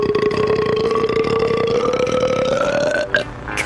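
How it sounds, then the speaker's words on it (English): A cartoon female character lets out one long, loud, drawn-out burp whose pitch slowly rises before a brief gurgling tail at the end. "Burping contest."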